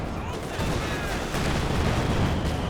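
Machine gun fire in the Company of Heroes 2 war game, a continuous rattle of rapid shots mixed with battle rumble and explosions, loud and dense for the whole moment, with a commentator talking over it.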